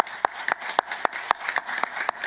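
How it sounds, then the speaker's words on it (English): An online event audience gives a speaker a short burst of clapping and cheering: scattered, uneven claps, fairly close and moderately loud, over a dense background wash. "I'll get everyone here to give you a big cheer to thank you for staying up late"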